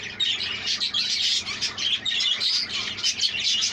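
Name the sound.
budgies chirping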